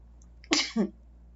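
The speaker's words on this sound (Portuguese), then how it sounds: "vai com espirro mesmo" A single close sneeze, sharp and sudden, with a quick two-part burst and nothing else around it.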